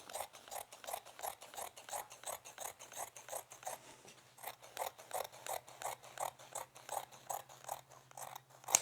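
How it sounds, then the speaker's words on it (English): Scissors snip steadily through blue slipcover fabric for a sofa bed, a fast run of regular crisp cuts close by with a faint steady hum underneath and no talking. "So what we're going to do is just simply cut this blue line out"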